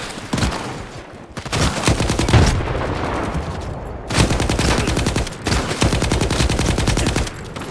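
A machine gun fires long sustained bursts in the video game S.T.A.L.K.E.R. 2, loud and close, with rapid rhythmic reports broken by a few short pauses.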